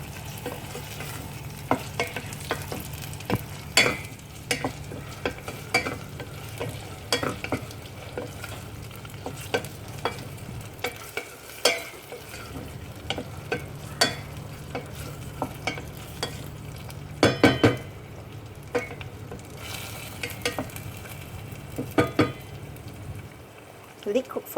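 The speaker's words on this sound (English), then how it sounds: "now I'm going to add the tomatoes and give it a good stir" Tomatoes being stirred into okra sothi in a sizzling pan, a steady frying hiss with repeated scraping and clinking of the spoon against the pan throughout, a brief lull near the middle.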